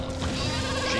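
Sheep bleat in the Skylanders Giants video game, a continuous dense bleating over a busy game soundtrack for about a second, fairly loud and up close.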